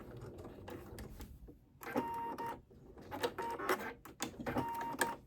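A sewing machine stitches a pocket seam down to the end of a small skirt in quiet, intermittent bursts of rapid mechanical whirring, separated by short pauses.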